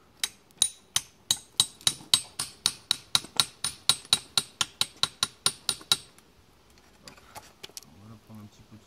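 A roofing slate is forced and split by a series of about twenty sharp, evenly spaced taps that ring brightly up close, then a pause and quieter handling with a voice speaking.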